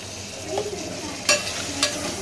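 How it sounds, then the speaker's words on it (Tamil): Tomatoes and onions, with turmeric and salt, fry in a pan for a kurma, giving a soft, steady sizzle with a few sharp scraping clicks of stirring, close and alone. "தக்காளி வெங்காயம் வதங்க"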